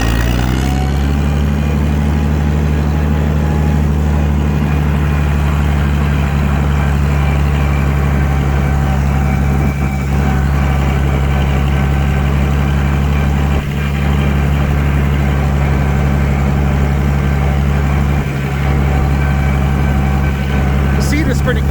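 A Massey Harris 102 tractor running for the first time in ten years, its engine holding a loud steady low rumble with a slightly noisy transmission whine, continuous throughout with a voice talking over it.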